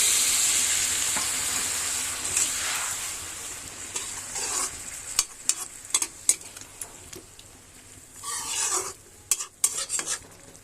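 Food frying in a pan on the stove, a steady loud sizzle that fades while a utensil stirs and scrapes with sharp clicks and knocks against the pan, close up and with no voices.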